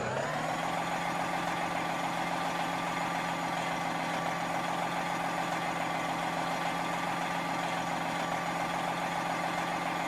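A Detroit 60 Series diesel in a Freightliner truck idles steadily in American Truck Simulator, a constant low rumble with a faint high whine, unchanging throughout.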